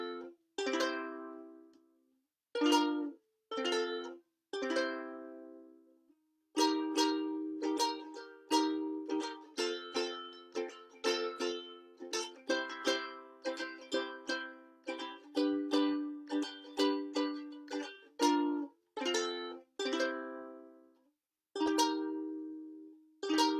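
The opening verse section of a song from The Lion King, played as a live music lesson, comes through as a lively sequence of plucked or struck chords and melody notes in short phrases with brief gaps, clear and moderately quiet.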